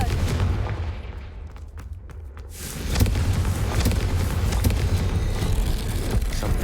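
A Confringo spell explosion in Hogwarts Legacy erupts as a loud, broad blast, followed by a sustained rumbling roar of fire and debris.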